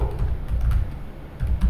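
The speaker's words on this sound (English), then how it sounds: "I am just typing something." Typing on a computer keyboard while writing Python code in a Jupyter Notebook, a quick, close run of clicking keystrokes with a brief pause partway through.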